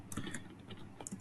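Light typing of HTML code on a computer keyboard, a quick irregular run of close, crisp key clicks with short gaps and no talking.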